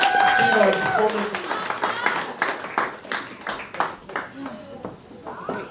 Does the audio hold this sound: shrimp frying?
no